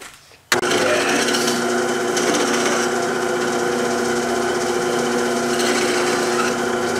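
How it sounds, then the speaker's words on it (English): A part being welded on a BM 250 trials motorcycle starts abruptly after a brief quiet moment, then holds as a loud, continuous buzzing crackle to the end. "So the next thing is we'll weld this on."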